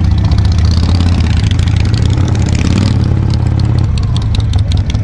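A Harley shovelhead motorcycle engine runs loud and close, a steady heavy rumble with rapid clattering beats that continues without a break.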